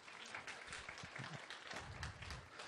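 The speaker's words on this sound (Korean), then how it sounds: "박수 주세요." Church congregation clapping during a sermon, a brief burst of moderately faint applause from a crowd, with low rumbling room noise underneath.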